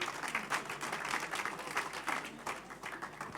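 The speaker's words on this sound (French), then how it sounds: "On peut encore vous applaudir." Audience applauding at a climate solutions award ceremony, steady dense clapping filling the room throughout, moderately loud with no break.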